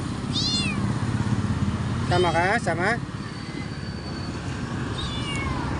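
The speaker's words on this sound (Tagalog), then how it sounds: "Pusa." An abandoned kitten by a bridge meows several times in short, high cries, near and clear, while a person talks softly over a steady background hum.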